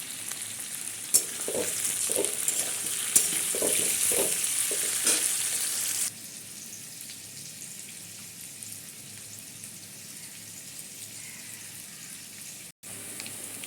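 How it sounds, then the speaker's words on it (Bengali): Potato pieces frying in oil with a little salt: a busy, crackling sizzle with intermittent stirring clicks for about six seconds, then a quieter, steadier simmering hiss, with no voices. "এবার এটা আলুটা লাল লাল করে ভাজা পর্যন্ত আমি ভেজে নেব।"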